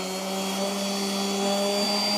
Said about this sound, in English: I'm sanding it out with 320 here.